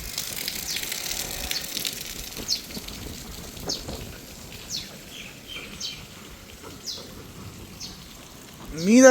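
Steady rain pours down in Kotla Heran village, Punjab, during the rainy season, a dense continuous hiss with scattered drips, birds chirping faintly through it and a brief louder rush near the end.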